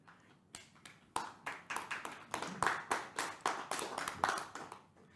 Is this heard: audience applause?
yes